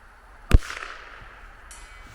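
A single sharp rifle shot fired at a 200-yard target, one loud crack with a short decaying echo trailing off into quiet.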